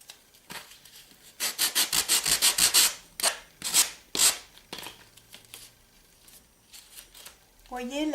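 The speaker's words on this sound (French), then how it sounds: "la cale à poncer, c'est l'idéal pour enlever quand vous avez vraiment, quand c'est vraiment une question de infime millimètre" A sanding block rubs lightly along a window screen frame being made to measure, giving a run of quick, rhythmic rasping strokes up close, then a few slower separate passes, with a voice briefly heard toward the end.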